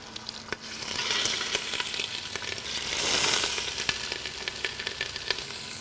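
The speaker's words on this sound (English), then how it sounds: "I'm gonna put down just a little bit of oil, and then we're gonna get these pieces in here to begin to sear" Turkey pieces sear in a little hot oil in a stock pot for turkey stock, giving a steady broadband sizzle with crackling pops and two gentle swells in intensity, close and continuous with no talking.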